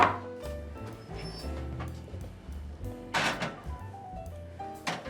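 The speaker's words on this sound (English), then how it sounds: "if you want to open the oven for me, I will do that. I will come over with these loaves." An oven door is opened so loaves of bread can go in to bake: a couple of clunking, rattling bangs around three and five seconds, partly masked by steady background music.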